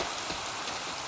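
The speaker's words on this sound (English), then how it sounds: "The rain is slanting a little bit" Rain falls in Minecraft as a soft, even hiss over a short moment, with no voices.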